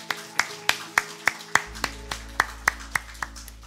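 A church congregation claps in unison at an early-morning prayer service: about a dozen crisp, evenly spaced claps keep a steady beat, with a low hum entering partway through.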